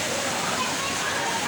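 Waterfall at a swimming spot, a steady broadband rush of falling water filling the whole clip at close range.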